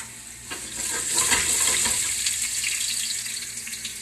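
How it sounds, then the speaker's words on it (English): Garlic sizzling and frying in a pan, a steady crackling hiss at moderate volume with some stirring, no talk over it. "We're going to get our garlic right in, get it going."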